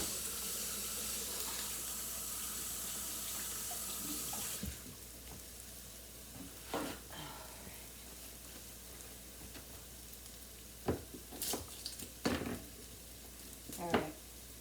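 Hands washed at a kitchen sink: tap water hisses steadily at first, then fades to quieter rinsing with clinks and splashes from nearby dishes.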